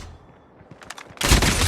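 A shotgun blast erupts in Call of Duty Mobile during a search and destroy match, a sudden loud burst after a second of quiet in-game clatter, ringing on to the end.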